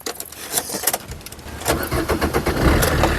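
A 2014 Maruti Suzuki Swift VDI diesel car starting up on a single crank, a short whirr of the starter catching into a close, steady engine idle that grows a little louder toward the end.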